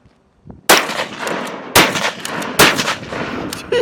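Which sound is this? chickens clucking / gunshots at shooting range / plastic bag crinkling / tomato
gunshots at shooting range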